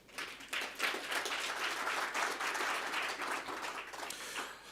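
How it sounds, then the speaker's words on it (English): A conference audience gives a few seconds of soft, even applause that sounds fairly distant and rises and falls slightly before tapering off. "I think we should clap a little bit louder so we can hear the applause."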